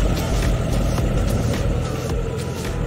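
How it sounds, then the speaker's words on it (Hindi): A car rolls into a parking spot with a continuous low engine rumble and road noise, steady and fairly loud and close, easing off slightly toward the end. "तो अपन करते हैं गाड़ी को पार्क।"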